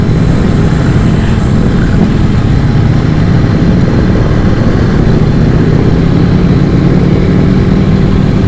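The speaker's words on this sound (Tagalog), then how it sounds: "Sarap pakinggan ng mga tambutso nila, mga tunog ng mga Ducati." Ducati motorcycle exhausts idling during a group breakfast ride at a country club, a loud, continuous low engine rumble close by with no talk.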